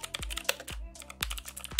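Clicky keystrokes on a computer keyboard while renaming a track in Ableton Live, a few quick bursts of taps close by with brief pauses between.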